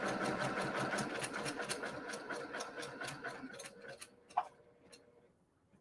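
A sewing machine runs close by in a rapid, even rhythm as it stitches a quilt block. It slows into a few separate stitches before stopping.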